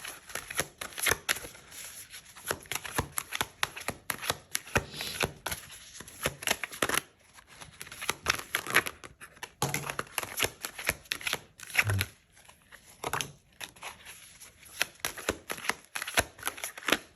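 Tarot cards are shuffled and drawn in a long run of dense, papery riffling bursts with a few short pauses between them and no talking, close and steady throughout.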